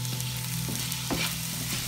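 Tomatoes fry in a pan while prawn biryani is being made, giving a steady close sizzle with a few soft stirring scrapes and no voices.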